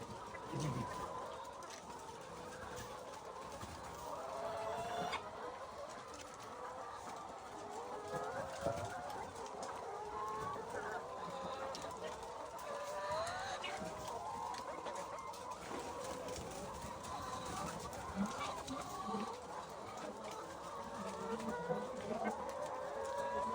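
A poultry farm holding 1,750 chickens fills the air with dense, continuous clucking from many birds at once, a steady, fairly quiet chorus with no talk.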